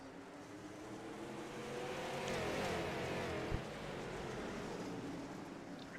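Limited late model race car engines at Lernerville Speedway in iRacing, a steady droning roar with rising and falling pitch as cars pass, moderately distant and sustained, with a single sharp knock partway through.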